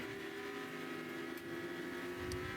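Porsche GT3 Cup race cars at a Thunder race, a distant engine drone holding steady under the open air, faint and continuous with no talk.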